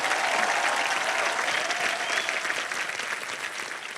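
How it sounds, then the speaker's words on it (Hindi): Dense, sustained applause from a TV game show studio audience fills the space, loud and continuous with a slight fade near the end, mixed with crowd cheering. "तो जोरदार डबल तालियां"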